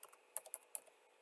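A few quick, quiet keystrokes tap on a computer keyboard as an email address is entered, sparse clicks close by in an otherwise silent room.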